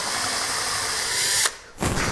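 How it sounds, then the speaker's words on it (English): A handheld power drill drives a screw into wood for a snowman and rustic church craft piece, whirring loudly and steadily before stopping briefly, then starting up again for a short second burst. "line up our material and drive a screw in"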